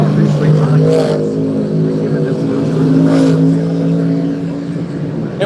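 Modified race cars, 410s and 358 Modifieds, roar through practice laps at a speedway, a loud continuous engine drone with shifting pitch as cars pass, dense and close throughout.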